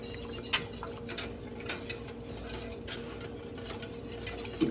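A spoon stirring ketchup ingredients and spices such as nutmeg and ginger in a bowl, with light clinks and scrapes against the dish over a steady low hum.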